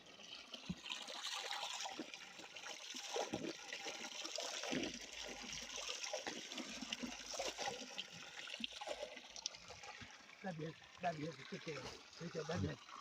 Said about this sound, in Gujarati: આ છે ગાયના મૂઢામાંથી પાણી પડે એ જગ્યા